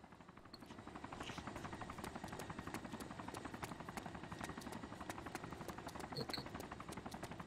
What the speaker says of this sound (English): It's the player chopper.